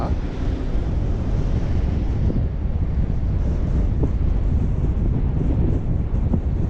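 Small fishing boat with an inboard engine running across open water, steady engine drone blended with wind buffeting the microphone and rushing water, continuous and fairly loud.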